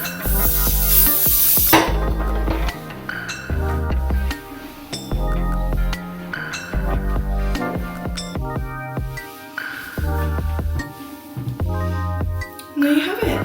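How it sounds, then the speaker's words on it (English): Hairspray from a large can sprayed onto hair, a brief hissing burst at the start, then buried under loud music that fills the rest. "I'm just gonna take some big hairspray."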